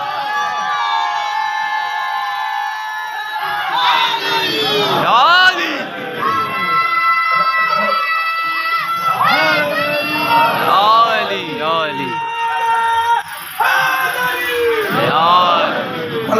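A large crowd at a Muharram majlis chants and shouts religious slogans together in loud, rising bursts, with a lead voice calling out between the waves of group response.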